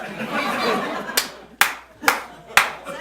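At an improv comedy show, laughter and murmuring give way to four sharp, separate hand claps spaced roughly half a second apart, close and distinct rather than a full round of applause.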